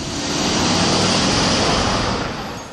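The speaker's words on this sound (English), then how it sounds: "Cars passed us tight and fast." Cars pass cyclists fast and close in St Petersburg city traffic, a loud broadband engine and tire rush that swells and fades as a vehicle goes by.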